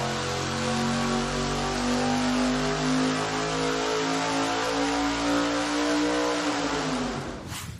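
Racing engine of almost 1,000 horsepower on a dynamometer during a baseline pull, climbing steadily in pitch with a loud continuous roar toward 7,000 RPM, then cutting off sharply at the end.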